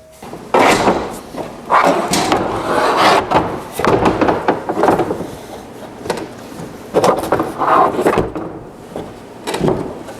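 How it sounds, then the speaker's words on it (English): Wooden boards knock, scrape and clatter against each other in bursts as pieces are shifted and pulled around, loud and close. "dig around in my wood pile here and try to find"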